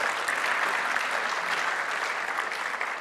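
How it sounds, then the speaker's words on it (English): An audience at a tech conference session breaks into sustained applause, many hands clapping at once, full and steady for a few seconds. "Give a clap for Jonathan, everyone."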